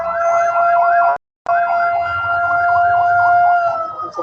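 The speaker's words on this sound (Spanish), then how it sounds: "Vamos a esperar que pase la ambulancia." A loud wailing ambulance siren passing, cycling steadily up and down, cut by a brief gap of silence, then continuing strongly before fading slightly at the end.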